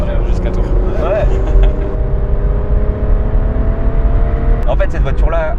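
Car engine revving hard through downshifts from fourth to third to second gear, a loud steady drone climbing in pitch, heard up close under continuous speech from people in the car.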